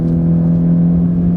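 Ford hybrid car with a 2-liter Atkinson-cycle engine pulling away under hard acceleration, giving a loud, steady droning engine hum with a strong low whine that holds evenly throughout.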